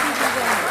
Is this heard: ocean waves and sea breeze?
no